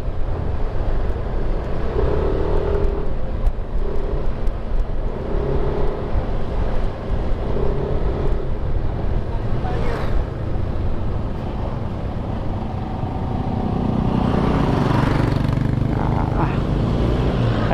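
Private vehicles pass along a bypass road near Tanza, from Sahud Ulan and Amaya toward Biga, giving a steady roar of engines and tyres that swells as a nearer vehicle goes by toward the end, with no talking.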